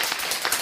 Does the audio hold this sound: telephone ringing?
no